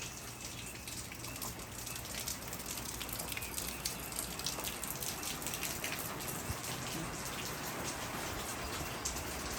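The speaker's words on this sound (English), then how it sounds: "I don't want to go in the rain. It's cold rain." Cold rain falls steadily outside a hostel, a dense, even patter of drops hitting surfaces with no let-up and no voices.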